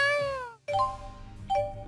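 A cat in Tales of Xillia 2 gives two or three clear, drawn-out meows in quick succession, close and fairly loud over a soft game background.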